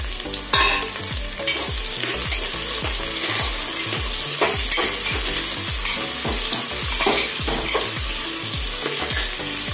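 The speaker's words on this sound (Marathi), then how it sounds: "आपल्याला कोबी, टमाटर आणि बटाटा चिरलेला आहे ते टाकायचं" Chopped cabbage, tomato and potato being stirred and fried in a pan for dry fruit masale bhat, with a steady loud sizzle and repeated scraping stirs in a quick regular rhythm and no talking.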